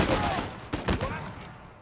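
Gunfire in the video game Uncharted 4: a few sharp shots burst out near the middle of a noisy action scene, loud and close, with background game sound throughout.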